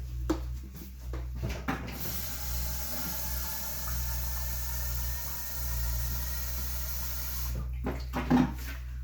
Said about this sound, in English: And then I'm going to put the water in on top again.